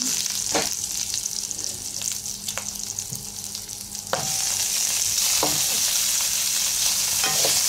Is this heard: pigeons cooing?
no